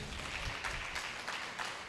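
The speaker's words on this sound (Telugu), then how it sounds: "చప్పట్లు కొట్టండి." A church congregation at a revival service in Hyderabad claps together, a soft, sustained patter of many hands spread across the room at moderate distance, steady throughout with no speech over it.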